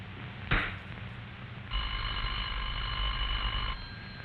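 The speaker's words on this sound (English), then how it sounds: "You'll hear a clear, evenly spaced ring that sounds like this." Telephone ring signal in the video game Guardians of the Galaxy, a single steady electronic ring tone lasting about two seconds over a low background hum, preceded by a brief click.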